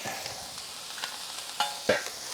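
Peppers and green onion frying for beef fajitas on a Kamado Joe grill, a steady crackling sizzle with a few sharp utensil clanks and scrapes against the cooking surface.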